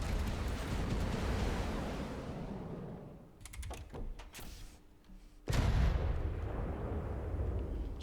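Railguns firing in the naval combat game From The Depths: a dense roar of heavy weapon blasts, a brief lull with scattered sharp cracks, then a loud renewed burst of booming fire.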